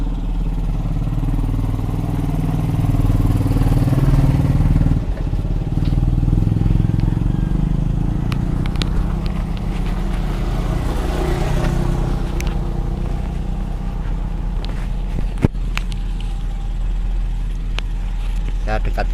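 A carbureted Toyota engine idles, checked for idle air and pilot jet setting, with a steady low rumble heard close to the microphone and a brief sharp click near the end.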